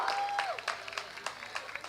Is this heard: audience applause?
yes